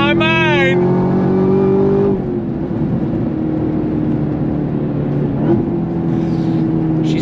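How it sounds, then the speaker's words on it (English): A car revving hard on throttle, its engine note climbing loud and close before settling into a steady, sustained roar under an excited voice talking throughout. "On throttle! I tell you, every time this car blows my mind."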